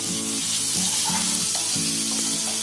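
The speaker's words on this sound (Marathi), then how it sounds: "लसूण चांगली आहे ना तेलामध्ये अशी चांगली तरतवून घ्यायची, फ्राय करून घ्यायची" Garlic sizzling in hot oil with a steady, close crackle and faint scraping of a stirring utensil, no voices.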